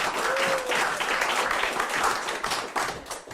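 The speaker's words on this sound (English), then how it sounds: "Give him a round of applause." Audience applause at a live stunt act, a full round of clapping that swells and then tapers off toward the end, with a brief tonal squeak early on.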